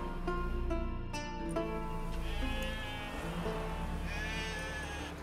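Sheep in The Witcher 3 bleat in a string of wavering, nasal calls, fairly close, with several overlapping bleats over a steady ambient bed.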